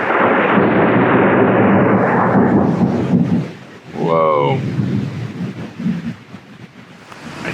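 A deep roll of thunder from a Southern thunderstorm rumbles loudly and fades away, then a person gives a short exclamation as softer rumbling continues.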